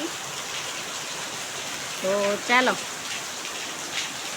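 Steady rain falls throughout, a dense even hiss close by, with a person speaking briefly over it midway.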